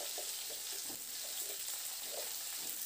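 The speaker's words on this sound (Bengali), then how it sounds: "সবজিগুলোকে বেশ লালচে করে ভেজে নেব।" Vegetables fry in hot oil over high to medium flame, giving a faint, steady hiss with occasional soft stirring scrapes, quiet and without voices.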